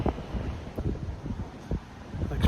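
Wind buffets the microphone on a bouncy suspension bridge at the Rochetaillée Dam near Lyon, a steady low rumble with several louder gusty thumps, no voices.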